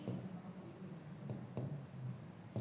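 Pen scratching on paper as notes are written during a Class 10 physics lesson on light, a soft continuous scribble with a few brief strokes, close and quiet, with no talk over it.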